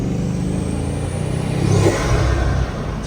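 A Bugatti Mistral's engine pulls hard at full throttle near Monaco, a loud, close, sustained roar that builds steadily as the car accelerates.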